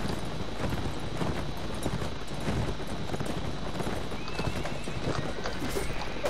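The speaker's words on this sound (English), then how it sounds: "They're on horses, at least." Horses gallop across a sand dune in a strategy video game, a steady, dense clatter of hoofbeats running throughout with busy game noise layered around it.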